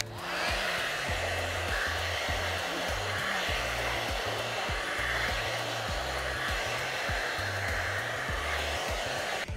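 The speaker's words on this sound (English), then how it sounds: "With the first attachment, the dry concentrate, it attaches on, it's gonna blast the hair dry." VS Sassoon Air Style hair dryer fitted with its concentrator nozzle, blowing hair dry: a steady, loud whooshing roar running throughout with a low motor hum, no voices.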